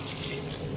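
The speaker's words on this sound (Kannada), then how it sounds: "ಇವಾಗ ಸ್ವಲ್ಪ ನೀರು ಹಾಕೋತೀನಿ." Water poured into a pressure cooker while making hotel-style sambar, a steady close splashing rush running the whole brief moment with no pause.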